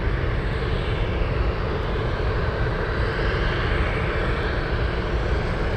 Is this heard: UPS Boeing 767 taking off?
yes